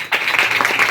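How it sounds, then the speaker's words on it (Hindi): A church congregation claps loudly during a sermon, a short dense burst of clapping that begins abruptly and stays strong for about a second. "जोर से ताली बजा दो।"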